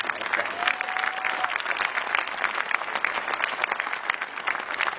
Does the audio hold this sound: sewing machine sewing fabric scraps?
no